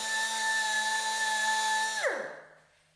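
A Dynabrade Dynafile abrasive belt tool whines steadily at high pitch for two seconds, then spins down as it is switched off, close and loud with no talking.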